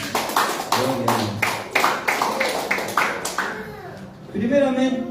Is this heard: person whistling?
no